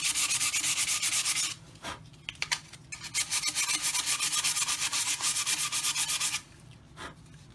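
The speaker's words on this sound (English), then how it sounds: "Sand it just a little bit." Rapid back-and-forth rasping of sandpaper rubbing the inside of a Vortex 3 model aircraft fuselage, in two long bursts separated by a short pause, close and fairly loud.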